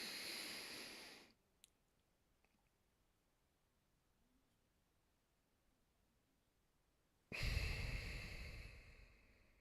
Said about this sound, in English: So big inhale.